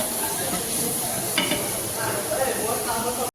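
Chopped tomatoes sizzle and hiss in a pan while being stirred for egg masala, a continuous close frying crackle with brief scraping stir sounds.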